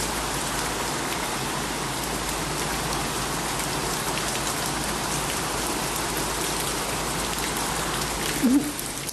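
Heavy rain pours down in a dense, steady roar of drops beating on surfaces, loud and unbroken throughout, with a brief small knock near the end.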